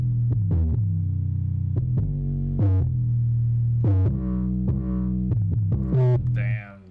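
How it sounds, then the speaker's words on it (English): An 808 bass pattern programmed in FL Studio plays alone, its deep booming notes sliding and shifting pitch in a throbbing, syncopated rhythm, loud and close with no other instruments. "This is what one of the crazier 808 patterns actually sounds like alone."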